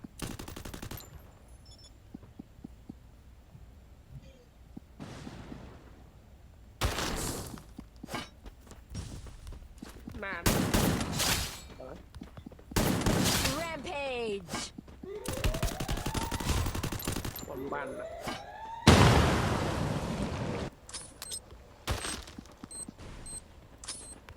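Bursts of rapid gunfire and booming explosions in the game Free Fire erupt repeatedly, loud and close, separated by brief lulls, with some shattering debris and thuds mixed in.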